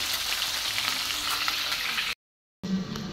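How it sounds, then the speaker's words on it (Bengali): A fish head fries in a pan of oil, giving a steady, loud crackling sizzle. The sound drops out abruptly for a moment, then the frying resumes. "মাছের মুড়োটা ভাজা হচ্ছে এখন।"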